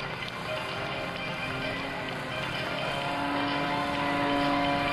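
Sean D. Tucker's Oracle Challenger aerobatic plane flies at the 2002 NAS Oceana airshow, its engine a continuous loud roar that swells slightly toward the end, with no talk over it.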